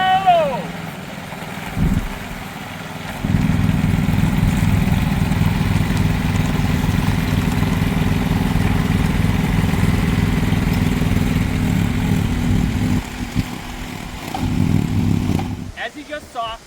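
A GT5120P 1.2 ton mini excavator runs in high gear, its engine a steady, loud mechanical drone that starts a few seconds in, with voices talking over it.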